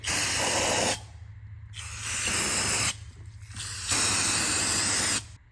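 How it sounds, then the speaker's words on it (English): Compressed air blasts out of a car part after a brake-clean wash, loud close hissing in three long bursts separated by short silences, with no talking. "I got it all sprayed out with the compressed air after completely washing it with the brake clean"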